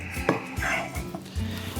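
Cut potatoes tumble into a bowl in a home kitchen, a few close clattering knocks and scrapes against the dish, brief and alone without talk.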